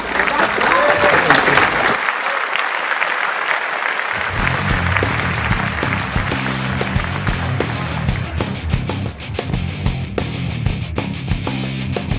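A round of applause from an audience, a brief voice at the start giving way to dense, continuous clapping that stays loud and steady to the end.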